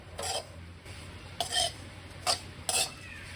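Sesame seeds are stirred and roasted in a pan over a low flame for sesame-jaggery laddoos, giving four short scraping bursts spaced by quiet pauses over a low steady hum, with no talking.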